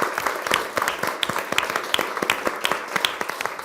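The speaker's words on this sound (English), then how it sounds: "So one applause for them" Audience applause for an AI-in-healthcare ethics panel, a thin, moderately close patter of clapping with scattered individual claps standing out.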